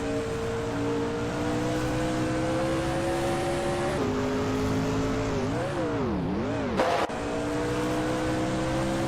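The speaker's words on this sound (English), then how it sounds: "The NASCAR 1980 cars seem evenly matched on Zolder, with no clear advantage." Simulated NASCAR 1980 stock cars racing at Zolder in a racing game, a steady loud engine drone with harmonic whine shifting pitch through gear changes and corners, a brief burst near the end, no talking.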